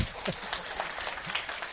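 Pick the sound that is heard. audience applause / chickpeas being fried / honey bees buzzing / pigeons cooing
audience applause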